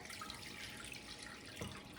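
Water is poured out of a lemonade container in a kitchen, a faint steady splashing stream with a brief louder slosh near the end.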